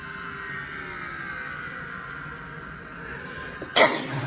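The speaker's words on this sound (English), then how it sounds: "Didn't mean to sneeze." A sudden, sharp sneeze bursts out near the end, over a steady faint background hum.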